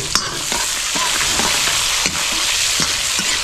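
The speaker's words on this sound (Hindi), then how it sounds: "बढ़िया तड़का को लाल कर लेते हैं भूनकर।" Spices and green chillies sizzle and crackle in a hot kadhai for a tadka, a steady frying hiss with occasional stirring clinks and pops, close and continuous.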